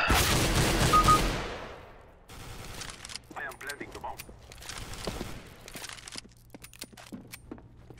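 Gunfire in the video game CS:GO, a loud rapid burst of automatic fire up front, followed by scattered clicks, footsteps and sharp game sounds beneath quieter chatter from players.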